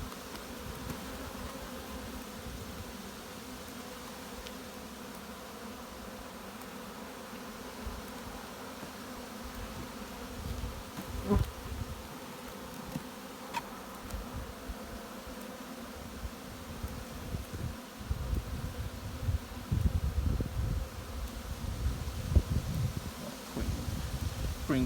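Honey bees buzz in a nucleus hive, a faint steady hum with louder wingbeats and rustling close by growing busier toward the end.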